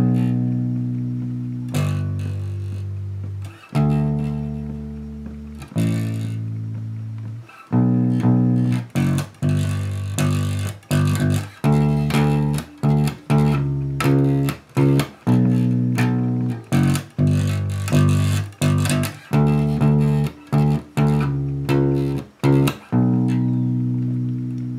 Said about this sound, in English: It's a fairly simple bass line really, but it has got a distinct pattern in the verse which stands out